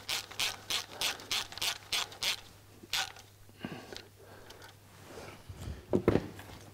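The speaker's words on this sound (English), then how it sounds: "So I'm now going to take that off and change the washer." A ratchet wrench clicks in quick repeated bursts, loosening an oil-drain bolt to replace a split washer, close and fairly quiet, followed by a few softer metallic handling sounds.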